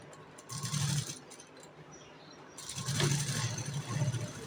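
A sewing machine runs in two short stitching bursts while sewing a one-side seam along the round neck strip of a cut dress, with a steady low hum and rattling underneath and quieter pauses between runs.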